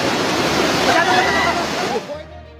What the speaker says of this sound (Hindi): त्रिशूली नदी उफान पर है